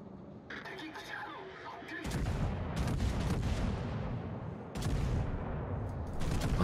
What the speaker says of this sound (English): I am firing high explosive.